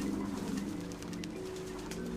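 Soft, low pigeon-like cooing from birds in the puzzle game Antichamber repeats steadily under a quiet ambient hum, fairly faint, with no talking.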